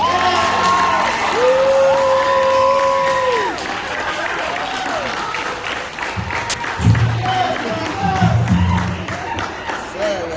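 Audience applause and cheering fill a school's Black History Month celebration at P.S. 156, following a few sustained tonal notes; the crowd noise swells in bursts with scattered shouts and voices mixed in.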